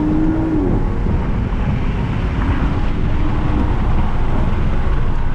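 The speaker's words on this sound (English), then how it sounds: "Let's get another downshift here. Get it down into second. Hear the turbo" A 2022 Audi SQ5 SUV with a turbocharged 350-horsepower engine pulls hard in second gear after a downshift, giving a loud, steady engine roar under heavy road and wind noise, heard from inside the cabin without talking.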